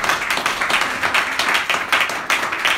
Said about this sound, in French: Acclamez pour la gloire de l'Éternel